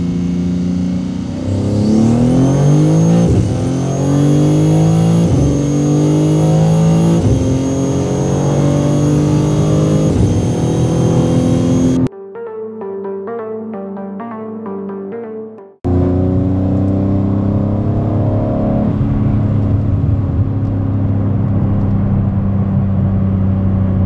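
A car engine revving hard and climbing through rising pitch sweeps across gear changes, loud and close, with a short cut to a quieter whirring passage before the strong engine roar returns and holds.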